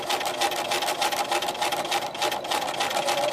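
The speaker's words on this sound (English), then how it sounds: "Okay, then I'm going to stitch across this edge." A sewing machine stitching across a fabric edge at a 3/8 seam allowance runs steadily with a fast, even whirring hum, close and continuous with slight surges in speed.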